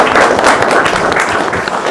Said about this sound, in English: So I think we need to give Nancy a round of applause.